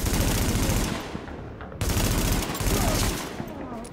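Rapid automatic gunfire in The Division video game comes in two loud, close bursts of dense rattling shots, each trailing off into echo, with a brief gap between them.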